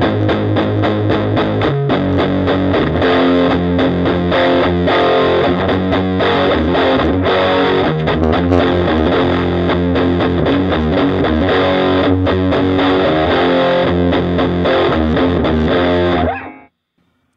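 A Kustom Solo 16 guitar amp is played at half gain, breaking into harsh, fuzzy distortion for about sixteen seconds of continuous chords before cutting out to silence.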